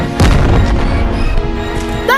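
Gunshots ring out in the Animal Company video game, a loud boom up front followed by a sharp burst of fire over a busy game-sound background.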